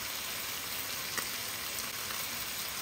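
Tomato paste sizzling in a hot frying pan for a Guyanese spicy butter fish curry with tomatoes, garlic and onion, a steady soft hiss of frying with no talk.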